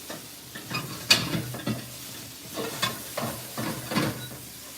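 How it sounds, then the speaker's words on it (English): Onions sizzle and hiss in a frying pan while being stirred, with repeated scraping stirs and bursts of crackling over a steady frying hiss, close by. "We can hear the sizzle."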